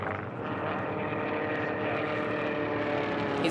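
Formula One class racing airplane in a national championship air race, heard as a steady, buzzing propeller-engine drone with no clear approach or fade over a few seconds.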